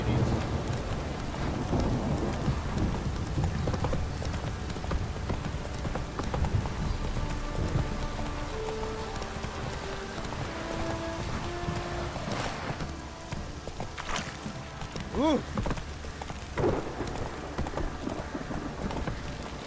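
Steady heavy rain hisses throughout in The Witcher 3: Wild Hunt, with hoofbeats clopping and a few faint voices and tonal calls in the mix.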